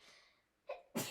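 One person sneezes a single short, sharp time, preceded by a faint intake of breath, heard close and alone in an otherwise quiet room.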